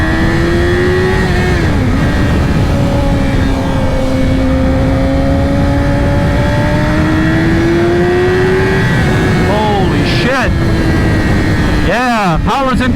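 A 2020 Yamaha R6 fitted with a LeoVince Factory S exhaust roars very loud and close, holding a high steady engine note that climbs and dips before sharp revs near the end.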